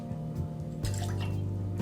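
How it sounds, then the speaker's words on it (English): Freshly squeezed lime juice poured into a cocktail, a steady close trickle of liquid running for about a second and a half. "I want to pour in 1 full ounce of freshly squeezed lime juice."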